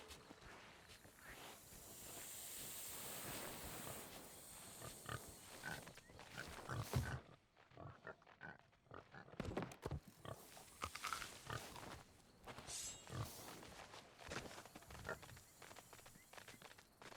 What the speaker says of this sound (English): I hear piggy noises, but the pig isn't there.